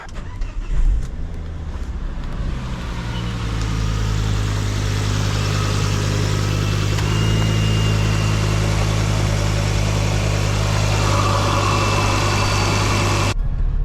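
A Ford Focus ST Mk2 engine with a coolant leak idles steadily and close by, a low constant rumble with a faint higher whine, running on alone without any talk.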